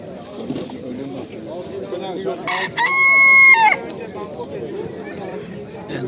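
A rooster crows once, loud and close, amid a busy background of people chattering nearby at the Edirnekapı bird market in Istanbul.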